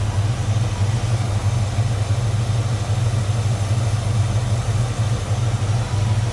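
A 1956 Studebaker 2E C-Cab pickup with a small block Chevy, Edelbrock 4-barrel carburetor, headers and true dual exhaust idles steadily and smoothly, a close, loud, even engine rumble with no talk over it.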